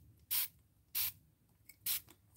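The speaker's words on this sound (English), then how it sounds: "Have I told you how much I love this sprayer? It's such a fine mist." A spray bottle releases fine water mist in three short, crisp hissing bursts, evenly spaced, close and otherwise quiet, while working on a mixed media rock art piece.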